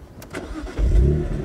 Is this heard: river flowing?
no